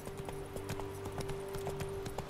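Horse hooves clip-clopping in The Witcher 3 as a summoned horse arrives, a steady run of evenly spaced hoofbeats over a constant game music drone, moderately loud and close.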